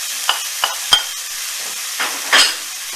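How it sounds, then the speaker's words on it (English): Parsnip tipped into a frying pan of browning chicken and leeks for Polish chicken soup sets off a loud sizzle, with several sharp clattering drops and scrapes over a steady hiss. "And now into the pan goes the parsnip,"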